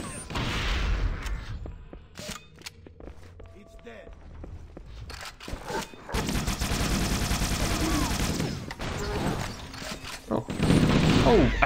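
Gunfire and a needler supercombine explosion in Halo: Combat Evolved, a chaotic run of sharp shots, crackling bursts and booming blasts with footsteps, growing denser and louder in the second half.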